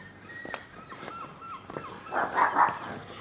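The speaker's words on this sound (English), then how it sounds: "Oh, some vicious dogs." Dogs bark and yelp in short bursts at an outdoor spot near the steps up to Whitby Abbey, mid-distance and moderately loud, with the louder cluster of barks coming near the end.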